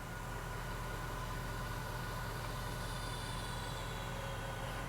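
A car engine idles steadily after starting, a constant even hum with a faint high whine above it, close and unbroken, with no talking.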